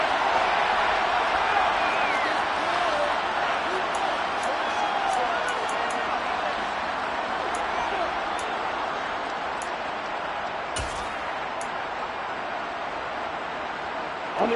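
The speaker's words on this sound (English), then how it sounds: "Plenty of shouts from this crowd as they watch the replay." Stadium crowd in Madden 23 roaring and shouting in a steady, dense wash of voices, loud and continuous with occasional sharp whistles and clicks rising above it.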